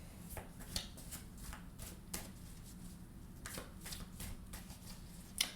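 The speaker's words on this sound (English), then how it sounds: "I'll do a couple more shuffles." Tarot cards being shuffled by hand, a run of soft riffling bursts and flicks with brief pauses between, close and fairly quiet, no talking.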